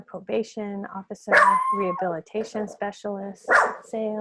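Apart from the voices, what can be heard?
Chihuahua dog barking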